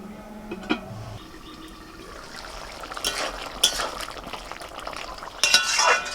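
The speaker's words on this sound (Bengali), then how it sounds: "একটু নাড়াচাড়া করে এখন জল দিয়ে দিচ্ছি।" Poppy seed paste with green chillies being stirred in a pan, then water poured in, giving soft scraping and stirring scrapes with a few sharp clinks and a brief sizzling splash near the end.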